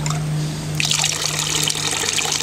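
A Campania International X3 outdoor fountain pump switches on, and water starts trickling and splashing steadily into the basin, loud and close, over a constant low motor hum.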